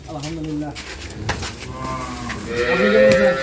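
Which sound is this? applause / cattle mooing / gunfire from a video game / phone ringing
cattle mooing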